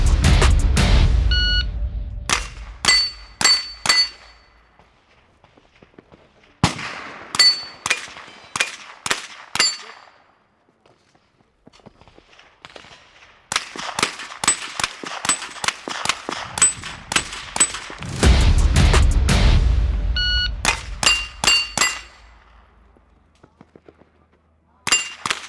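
Maxim MD9 16-inch carbine firing in rapid strings during a run-and-gun shooting match, loud, sharp shots with steel targets ringing after hits, bursts separated by short pauses and movement.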